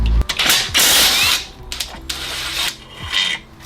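Ratchet working loose a 10mm screw from underneath a flood-damaged BMW M135i xDrive, with bursts of rapid clicking and grinding mechanical rasps, close and fairly loud, separated by short pauses and no talking.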